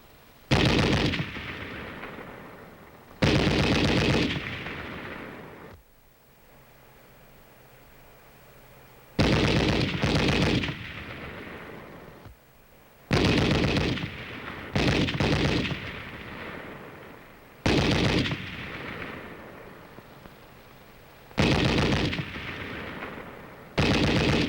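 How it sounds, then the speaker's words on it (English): Bursts of gunfire crack out repeatedly during army field training, each loud volley ringing and decaying before the next, with a few quieter gaps between rapid clusters of shots. "the sound of bullets whizzing overhead"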